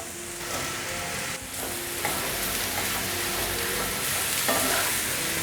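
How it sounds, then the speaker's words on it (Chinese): Daikon radish, then red and white shimeji mushrooms stir-fried in a pan, a close, steady sizzle with brisk scraping and tossing, no voices. "现在放入白萝卜，快速拌炒，大约略炒一下，放入红喜菇和雪白菇。"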